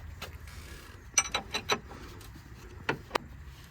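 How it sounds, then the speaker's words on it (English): A 22 mm spanner tightening the outer tie rod end nut on a car, giving a few sharp metallic clicks and ratchet-like ticks in a short burst, then two more isolated clicks. "You can tighten the outer tie rod end nut. It is a 22 mil as well, so use a 22 mil spanner"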